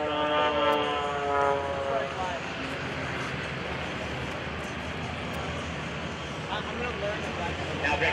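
An aerobatic airplane performing at the 2011 Joint Services Open House airshow, its engine droning with shifting pitch under an announcer's continuous commentary over loudspeakers.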